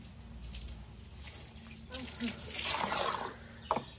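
Water trickles and splashes softly as it is poured over flowers, with a low hum in the background and a voice talking partway through.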